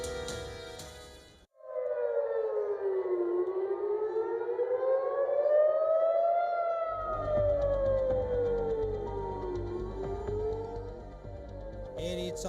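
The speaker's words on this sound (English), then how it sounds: "Air raid sirens wail their haunting warnings" Civil defense air raid siren wailing loud and steady, its rising and falling tone sweeping slowly up and down for several seconds after a brief opening noise, with a low rumble joining underneath partway through.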